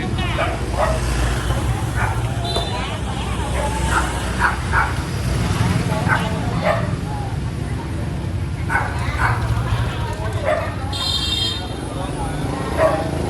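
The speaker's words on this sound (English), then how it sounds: "Got a cute puppy." A small puppy barks and yips at a house in Saigon's District 3, Vietnam, its sharp calls rising over a constant background of traffic, horns and people talking nearby.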